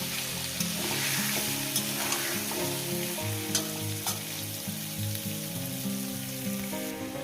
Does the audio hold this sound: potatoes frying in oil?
yes